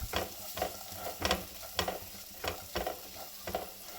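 Chopped carrot, onion and beans sauté in a pan for Russian cutlets, a soft sizzle punctuated by regular scraping stirs roughly twice a second, fairly quiet and close.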